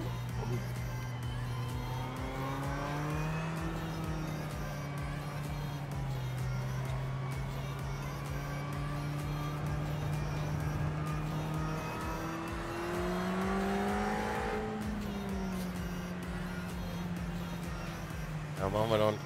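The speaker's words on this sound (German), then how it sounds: "der Ferrari klingt sehr schön" Ferrari race car in the iRacing sim racing game, its engine droning steadily with pitch rising and falling through gear changes and brake drags, loud throughout under continuous talk.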